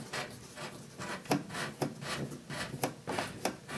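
A black water hose connection is screwed by hand onto a washer fitting: a soft, close scraping of plastic threads, with a few rhythmic gritty turns and small clicks over a few seconds.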